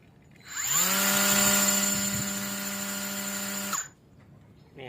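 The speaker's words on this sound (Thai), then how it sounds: "เดี๋ยวก่อนตัดเรากดทดลองใช้งานก่อนนะครับ" A cordless iMac grass trimmer fitted with wire cutting line is test-run: its motor spins up quickly to a loud, steady high whine, holds for about three seconds, then cuts off and winds down.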